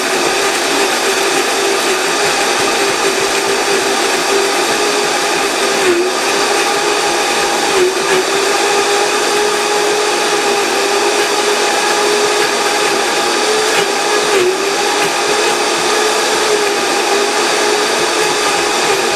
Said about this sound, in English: While I'm blending here